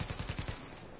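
Rapid automatic gunfire from the video game The Division, a burst of about five evenly spaced loud shots in the first half second, then fading into a quieter reverberant tail, with no talking.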